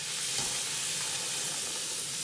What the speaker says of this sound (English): so let's put the puri in. It should sizzle and should come up right away.